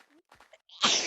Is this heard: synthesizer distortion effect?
no